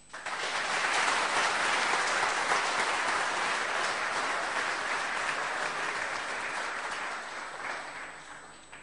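An audience at an oratory event applauds in a dense, sustained burst that swells quickly, holds loud and close, then tapers off near the end, with no voices.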